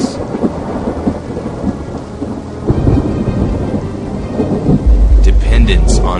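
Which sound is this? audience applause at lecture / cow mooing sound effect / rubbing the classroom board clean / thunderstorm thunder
thunderstorm thunder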